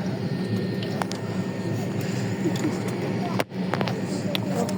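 Heard from inside the cabin, a passenger airplane takes off with a loud, steady broadband roar that holds throughout, with a brief dip near the end.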